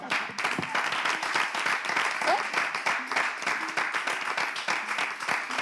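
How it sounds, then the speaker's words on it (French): Studio audience applauding the guest of the day on a French-language talk show, steady clapping from many people over several seconds, with some faint voices underneath. "Mesdames et messieurs, on applaudit notre invité du jour."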